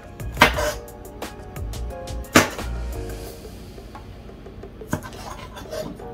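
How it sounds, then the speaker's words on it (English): A knife chops onions on a cutting board at home, giving a few sparse, sharp knocks spaced seconds apart, with quiet handling noises between them. "And then I'm gonna chop up the onions."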